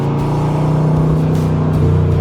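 A 1965 Chevrolet Corvette Roadster on a winding road gives a loud, close, steady engine drone as it accelerates gently under light throttle, with no talking.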